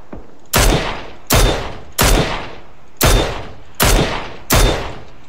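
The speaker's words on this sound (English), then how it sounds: "Shots all over" Six loud gunshots, evenly spaced about a second apart, each a sharp crack that trails off in a long echoing decay, with no other sound between them.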